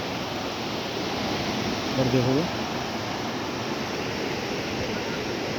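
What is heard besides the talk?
swollen river water flowing after overnight rain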